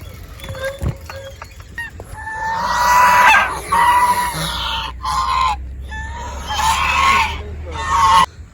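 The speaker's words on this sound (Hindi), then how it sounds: "यहाँ पर आप देख सकते हो डक्स सुबह सुबह यहाँ रास्ते में निकले पड़े हैं।" Ducks call loudly on a campus road in the morning, a series of harsh honking quacks in bursts, close by, with faint rumbling background noise.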